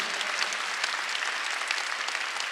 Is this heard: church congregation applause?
yes